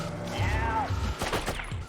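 Gunshots in Oddworld: Abe's Oddysee, a few sharp cracks bunched together in the latter half over a low droning game ambience, with a tonal sweep earlier on.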